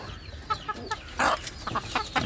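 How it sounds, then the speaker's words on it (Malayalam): Native spotted hens cluck in short, scattered bursts, close by, with a few sharper squawks mixed in. "നമ്മളെ നാടൻ പുള്ളിക്കോഴികളാട്ടോ പുള്ളിക്കോഴികളാണ്"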